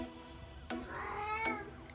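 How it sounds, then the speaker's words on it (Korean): A stray cat makes anxious, strange meowing sounds, a couple of close, fairly quiet drawn-out cries with short sharp noises between them. "뭔가 불안한 듯 이상한 소리를 내는 두돌이."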